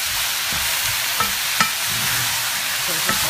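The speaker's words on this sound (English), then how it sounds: "So just a light few minutes saute here." Chicken and zucchini sautéing in a pan, a steady bright sizzle with a few sharp clicks of stirring, close and continuous.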